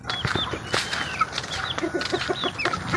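Chickens cluck in a simple backyard coop run by a small breeder, a few short clucks and calls close by, with scattered rustling and wing movement and no talk.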